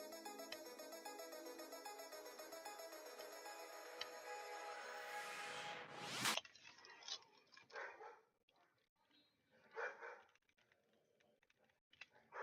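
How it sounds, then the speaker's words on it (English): A pet dog barks in a few short, scattered outbursts after a sustained electronic tone cuts off, the yaps fairly close but intermittent, separated by quiet gaps. "My dog is spazzing right now, per usual."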